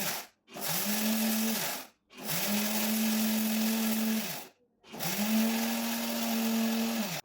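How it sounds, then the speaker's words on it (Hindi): An old electric mixer grinder crushes dry ginger and spices in three loud, close bursts of whirring motor whine, each spinning up and cutting off with short silent pauses between. "और बाकी के जो मसाले हैं वो भी इसमें मैं ऐड कर दूँगी, और अब सबको ही मैं साथ में पीसूँगी।"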